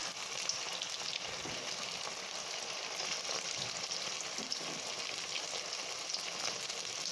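Chili chicken vadai deep-frying in oil over a medium flame, village style, giving a steady, dense bubbling sizzle that holds evenly close by throughout with no talk.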